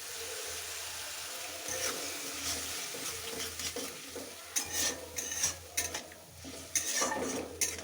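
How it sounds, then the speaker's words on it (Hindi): A spoon stirring and scraping in a pan of gobi manchurian sauce with soy sauce and tomato ketchup as water is poured in, giving soft sizzling, wet swirling and several sharp metallic clinks near the end, close and fairly quiet. "अब इसमें डाल देंगे थोड़ा सा पानी।"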